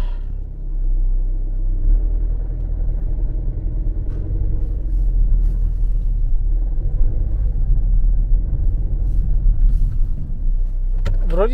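A Mercedes Vito van's engine rumbles steadily at close range as the vehicle rocks forward and back through snow, a low continuous drone holding for the whole stretch with no talk over it.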